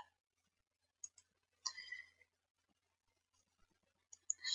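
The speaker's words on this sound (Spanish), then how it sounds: "Muy bien, hacemos clic en aceptar." Sparse, crisp computer mouse clicks on an otherwise quiet desk while working in an Excel spreadsheet: a few single and double clicks early, then a brief rustle, with a quick burst of clicks at the end.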